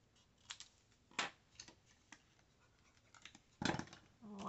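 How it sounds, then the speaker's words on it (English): Scissors cut a paper taco embellishment in half, a series of faint, close snips and scratchy paper crinkles at an uneven pace, ending with a louder rustle of handled paper. "I'm just going to cut it in half."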